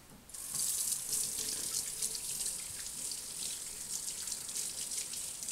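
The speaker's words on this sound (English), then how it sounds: "I'm going to rinse my hands" A kitchen tap runs steadily into a sink while hands are rinsed under the stream during pastry and tart baking, a close, continuous hiss of water with slight splashing throughout.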